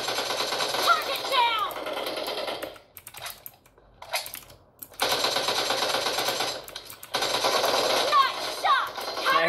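Rapid automatic M16 and AK rifle fire in the mobile battle-royale game PUBG Mobile, played with keyboard and accessories, comes in three dense bursts separated by short pauses with light clicking between them.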